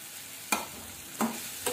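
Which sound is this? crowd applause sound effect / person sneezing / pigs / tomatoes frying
tomatoes frying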